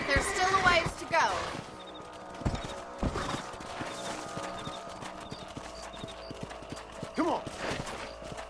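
Horses clip-clop at a steady walking pace in Red Dead Redemption, hooves close and distinct, with a neigh near the start and a brief spoken line over them.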